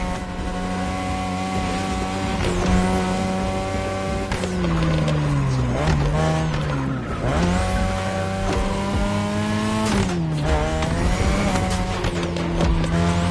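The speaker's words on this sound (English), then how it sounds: "Tonight your ride is a 3rd Gen 2002 Mazda RX-7. Lightweight, compact, a sick rotary engine" Racing engine of a 2002 third-generation Mazda RX-7 with a rotary engine in The Crew Motorfest, a loud continuous high-revving whine rising and falling through gear shifts, with brief tire squeal, no talk.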